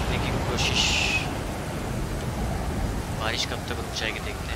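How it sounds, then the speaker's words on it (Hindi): Rain falls in a dense, continuous wash with low rumbling thunder in the Stranded Deep video game, while a voice speaks over the storm. "मुझे कहीं पे तो छुपना होगा क्योंकि ये बारिश गिर रही है ना"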